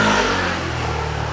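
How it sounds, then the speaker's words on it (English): Loud motorbike revving and passing close by on a Tokyo street, a brief rough engine roar that fades slightly as it moves away. "Those loud motorbikes are everywhere."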